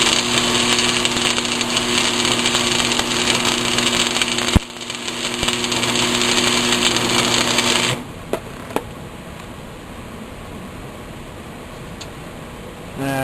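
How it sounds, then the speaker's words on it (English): Welding a fillet weld into the inside corner of metal: a loud, steady buzzing crackle runs for about eight seconds with a brief break, then stops, leaving quieter background noise and a few clicks. "So what we're going to do is come in and do a fillet first inside, and then come back afterwards and clean it up."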